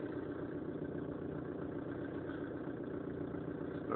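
A 2011 Ford Transit van with an oil pressure fault idles after being restarted following a stall: a quiet, even engine hum that holds steady without revving, heard on its own with no voices.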